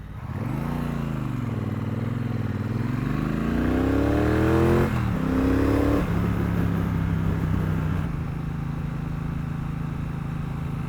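A Triumph Bobber 1200 motorcycle revs up, its engine note rising and falling in pitch through several climbs before settling into a steady throaty run, close and fairly loud.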